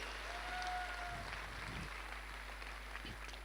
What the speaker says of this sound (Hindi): मैं चाहूंगा जोरदार तालियां एक बार फ्रंट लाइन के मेरे सभी मेंटर्स के लिए